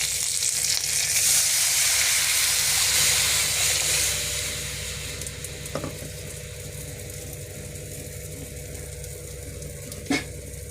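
Steady crackling sizzle of curry leaves frying in hot oil with popped mustard seeds while making rasam, loud at first then settling lower, with a couple of sharp pops near the end.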